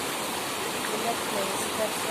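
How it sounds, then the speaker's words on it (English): Water pours down a waterfall swollen after rain, a steady broad rush filling the scene, with someone talking over it. "Because of rain falling down, water flowing"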